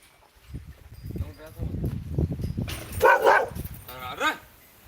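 A dog barks a few times near the end, sharp and close, after a stretch of people talking nearby.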